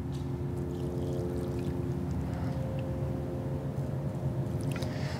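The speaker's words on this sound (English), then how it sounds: "But if you pour out a lot of the water" Water pours out of a bottle steadily in a continuous, full gurgling stream, close by, with no talking.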